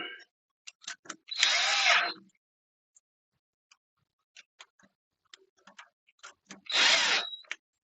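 A power screwdriver tightens screws while a toilet support arm is installed, two short whirring bursts separated by quiet clicks and small handling taps, close by.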